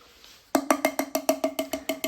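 Sharp, hollow tapping on a hard object to call dogs to food, about a dozen evenly spaced knocks in a steady rhythm after a short quiet pause.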